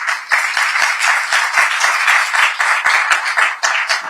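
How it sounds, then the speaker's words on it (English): An audience at a live business event in Mumbai breaks into sustained applause, dense clapping from many hands holding steady and loud, with no talking over it. "a big round of applause"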